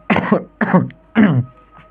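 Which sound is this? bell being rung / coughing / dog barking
coughing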